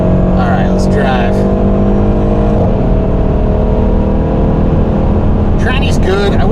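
A 2014 Mercedes AMG E63S 4MATIC rolls along with a steady, deep engine hum and road rumble inside the cabin, while someone talks over it at the start and end.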